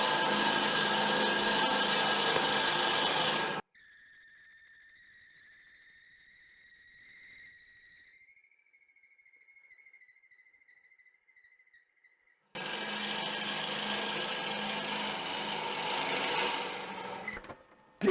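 Harsh rasping of a drill bit boring into wood on a spinning lathe, in two loud stretches separated by a quieter, steady whining motor hum.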